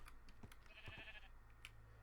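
A single faint, short bleat from a sheep in a fantasy video game, heard alone against low background hum with a few soft clicks.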